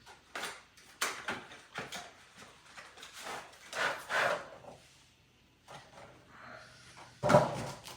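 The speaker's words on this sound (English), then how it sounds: "Now I can open this up without damaging the packaging." The packaging of an Artscape window film roll is opened by hand: a series of close cardboard and plastic rustles, scrapes and knocks in irregular bursts, ending in a louder clunk, with no talking.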